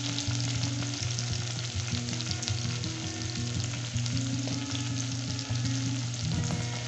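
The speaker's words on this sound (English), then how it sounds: "I'm just continuing to stir it and just give it a good soft feel." A pot of tomatoes for Kenyan mrenda cooks with a dense, steady sizzle and bubbling while being stirred, close and continuous throughout.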